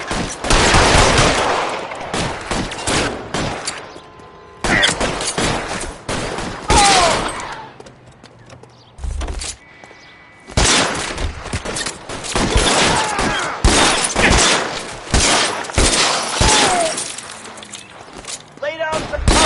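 Covering gunfire in the L.A. Noire game, rapid dense volleys of gunshots from several weapons, loud and close, coming in bursts with short pauses and voices talking between them.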